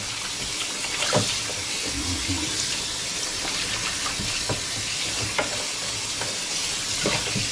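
Water sloshes and splashes in a basin during a second rinse outdoors, with irregular wet splashes and sharp clunks scattered over a steady running-water wash, no talking.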